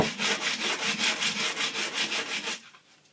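A steel hammer head is rubbed back and forth on glass paper laid on a workbench, making about a dozen quick, even scraping strokes close up before stopping.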